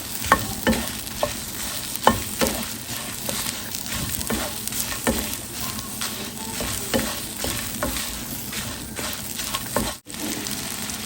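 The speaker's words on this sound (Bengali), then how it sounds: "ভর্তার জন্য আমি কিছু শুকনো মরিচ তেলে নিচ্ছি।" Dried red chillies frying in oil in a pan, with a constant crackling sizzle and frequent spatula scrapes and knocks as they are stirred, close up and without speech.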